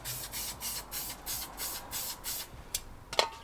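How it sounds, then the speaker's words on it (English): Brake cleaner sprayed onto the brake hub of a Hyundai i30N while fitting a big brake kit, giving a series of short, close hissing bursts in a steady rhythm, followed by a brief metallic clink. "just go over it with some brake cleaner"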